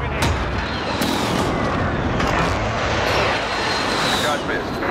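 Air strike explosions in Modern Warfare, dense heavy booms and rumbling blasts layered with gunfire, loud and continuous, with voices talking over them.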